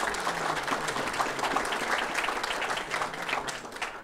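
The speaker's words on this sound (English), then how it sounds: "So let's give a big round of applause to our DOTs." A crowd applauds at a tourism award presentation, dense and continuous clapping filling the room at a steady, fairly loud level throughout.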